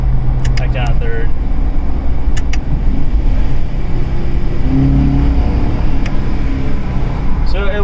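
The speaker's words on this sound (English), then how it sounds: "So we're in third gear, upshift, fourth gear, downshift, third gear, fourth, back down to third." A car held in manual mode with paddle shifters changes up and down between third and fourth gear, its engine a steady loud rumble with shifting tones and faint clicks, while someone talks over it.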